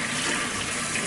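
Tap water running steadily over pechay cabbage being washed, a continuous close hiss and splash.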